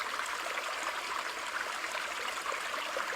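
Stream sound from a built-in iPhone background sounds feature: quiet, continuous trickling and babbling water with a bright, hissy texture and no pauses.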